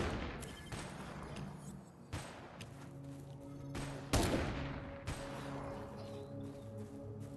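Gunfire in a shooter video game: a few sharp shots ring out at intervals over a steady game backdrop, with no talk.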